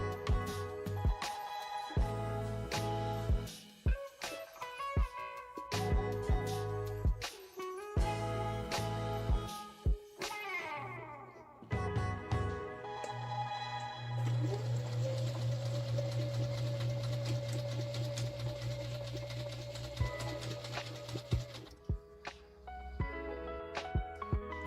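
A Singer M1605 sewing machine stitches its largest zigzag pattern, giving close, clear mechanical clatter in repeated short bursts with a steady motor whir and brief pauses between runs.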